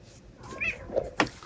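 A house cat meows several times in quick succession, close and fairly clear, short rising and falling calls with a sharper one near the end.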